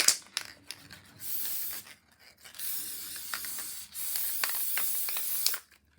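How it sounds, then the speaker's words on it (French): Repositionable spray glue hissing from an aerosol can onto card paper, two sustained bursts of close, steady spray with brief quiet gaps and small handling clicks, no talking. "je vais mettre de la colle en spray"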